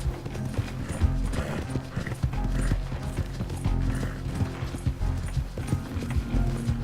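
Rapid hoofbeats of a galloping horse in a video game, a steady clattering rhythm with mechanical rattling mixed in throughout.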